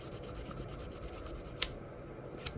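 A custom Beyblade metal wheel rubbed with fine 600-grit sandpaper, giving a soft, continuous close-up scraping with a couple of faint sharper ticks and no speech.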